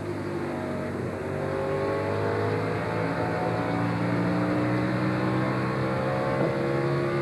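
A NASCAR stock car engine roars steadily down the backstretch at the 1999 Exide NASCAR Select Batteries 400, a loud sustained high-RPM drone with layered engine harmonics and no voices.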